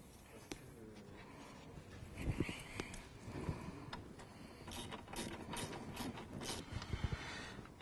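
Small plastic bolt on a Renault Scénic 2 dCi being tightened by hand during an air filter change, giving a run of soft ratcheting clicks and light plastic ticks, close and moderately quiet with faint background noise.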